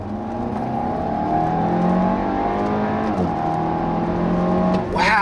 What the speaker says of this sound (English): the new 2-liter turbocharged engine is a peach